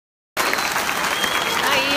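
An audience gives Sérgio Moro a standing ovation, sustained, dense applause that begins abruptly after a brief silence and continues steadily at full strength, with faint voices mixed into the crowd noise.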